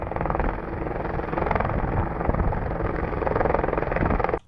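A rescue helicopter passes over the Northern Alps mountains with a loud, steady rotor roar and engine drone, constant throughout before cutting off abruptly.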